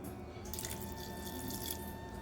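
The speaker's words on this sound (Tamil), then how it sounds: "இப்போ இதில் கொஞ்சம் தண்ணி சேர்த்துட்டு அரைச்சிக்கலாம்" Water is poured into adai batter before grinding, making a quiet, steady trickle and splash over a low background hum.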